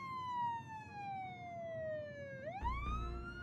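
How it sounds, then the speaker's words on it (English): A police siren wails in a dramatized story, one long descending tone sweeping down and then rising sharply again, fairly loud and close, with a low vehicle rumble entering near the end. "As the sirens grew louder, she knew it would only be a matter of time before the sheriff arrived"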